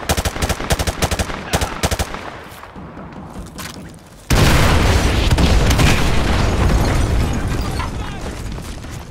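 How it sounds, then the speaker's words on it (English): Call of Duty: Modern Warfare 2 battle audio: rapid gunfire cracks in quick bursts, then a loud artillery blast that becomes a sustained heavy roar of explosions and shooting. "Artillery inbound."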